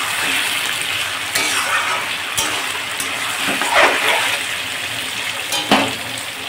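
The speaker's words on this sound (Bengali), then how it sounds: "এই মাংসটা নুন হলুদ মাখানো মাংসটা আমি দিয়ে এবার ভালো করে ভাজা করে নেব" Chicken coated in salt and turmeric fries in a hot pan for a spicy curry with a steady hiss and sizzle, broken by occasional clanks and stirring scrapes.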